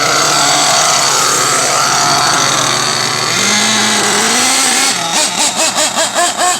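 A Pico P3 Italian moped engine runs rich during break-in, a loud continuous buzzing idle that swells into rhythmic revving pulses toward the end.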